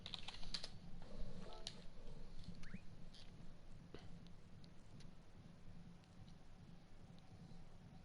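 Computer keyboard keys tapped in quick irregular bursts, quiet and close, over a low steady background hum with no voices.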